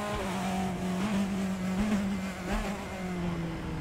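Race car engine in the Raceroom racing game, a sustained droning engine tone that rises and falls with gear and throttle changes, steady and fairly loud with faint tyre noise and no talk.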